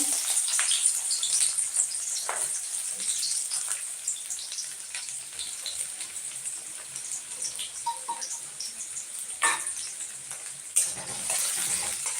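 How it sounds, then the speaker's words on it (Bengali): Onions frying in a pan give a steady, bright hiss with scattered pops and crackles, close and continuous with no one speaking. "এরপর দেখো আমি পেঁয়াজগুলো ভাজতে দিয়ে দিলাম"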